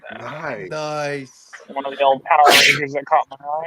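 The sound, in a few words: sneeze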